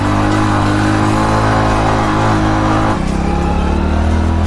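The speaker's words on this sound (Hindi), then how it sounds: "बाइक को फुल जोर आ रहा है वन मोर टर्न" Loud, constant drone of a motorcycle engine labouring up a steep hillside road near Dungar Balaji Temple in Gopalpura, its pitch dropping abruptly partway through as the load shifts, with no talking.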